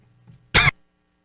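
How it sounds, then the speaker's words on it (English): A single sharp, close cough bursts out and stops abruptly, with quiet room tone before and after. "I wanted to end the show with a coughing fit, I guess."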